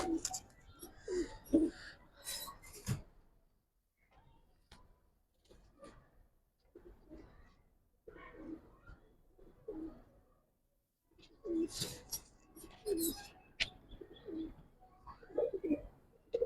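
Gribaz and coloured pigeons at a pigeon seller's coo in repeated soft bursts, close by, with quieter gaps between calls.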